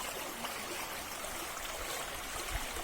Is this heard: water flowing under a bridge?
yes